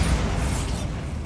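A Bombarda blasting spell goes off in Hogwarts Legacy, a loud, deep booming explosion with heavy low rumble that starts at once and slowly fades over a second, with no voices.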